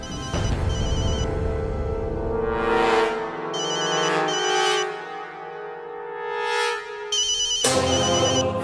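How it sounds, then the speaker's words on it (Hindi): A phone ringtone plays in bursts, a melodic electronic tone that starts and stops several times, loud and close, mixed with background music in a TV drama scene. "घंटी तो जा रही है।"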